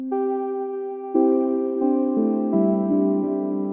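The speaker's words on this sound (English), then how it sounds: "I'm going to go ahead and use this sound called Soft Synth Bells." Soft, bell-like synth notes ring out in a gentle, sustained chord progression, with chords changing every second or so and no voices.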